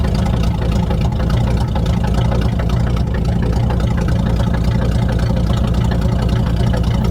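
A Chevrolet Suburban engine runs steadily just after a cold start, a loud, close, even rumble that holds smooth and unbroken throughout.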